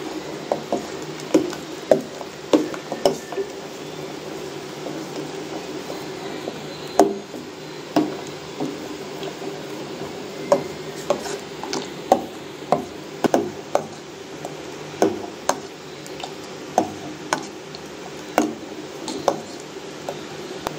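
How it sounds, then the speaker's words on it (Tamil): A ladle stirs a pot of carrot kheer, giving repeated light clinks and knocks against the vessel in an irregular rhythm. The sounds are close and moderately loud over a soft background hum. "இப்போ இந்த கரண்டியால் இதை கிளறி விட்டுக்கலாம்."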